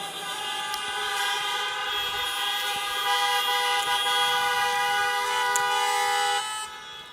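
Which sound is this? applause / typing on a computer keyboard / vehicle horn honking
vehicle horn honking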